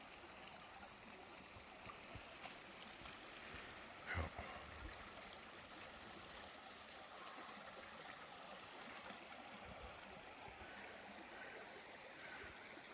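A clear mountain stream flows with a continuous, faint, even rush and gurgle outdoors, joined by one brief knock partway through.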